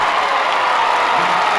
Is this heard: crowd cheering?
yes